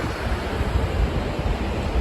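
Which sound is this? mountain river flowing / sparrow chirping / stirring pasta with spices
mountain river flowing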